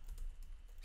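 Computer keyboard typing JavaScript code, a short quiet run of soft key clicks close up, with no talking.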